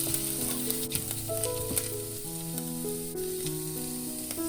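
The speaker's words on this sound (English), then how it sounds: "Drop in minced ginger. Stir fry for around 2 minutes." Minced ginger stir-fried in a pan for vegan fried rice, giving a steady sizzle that runs the whole time beneath fairly loud background music.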